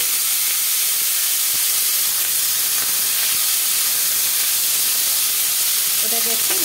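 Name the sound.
chopped onion and whole spices frying in oil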